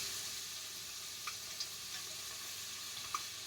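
Chicken sears and browns in a very hot pot over a hot fire, giving a steady low sizzle with a few faint ticks and pops.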